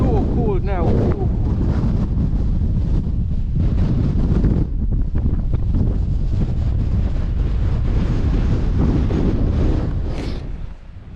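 Loud, constant wind buffets the microphone on a cold, exposed hillside above the College Valley, roaring steadily with gusts throughout and easing slightly near the end.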